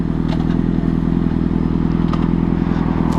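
Yamaha Fazer FZ6 motorcycle under way on a long road rally ride, its engine giving a steady loud drone with wind rush and faint rattles, continuous and close with no talk.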